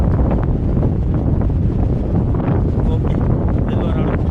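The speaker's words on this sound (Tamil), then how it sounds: "காற்று தான் ரொம்ப மோசம் தள்ளுது." Strong wind roars steadily on Kondarangi hill, a steep Shiva hill with a sheer drop, buffeting the microphone in a loud, unbroken rush with gusty surges throughout.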